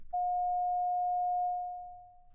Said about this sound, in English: Sine, make it fade in and fade out.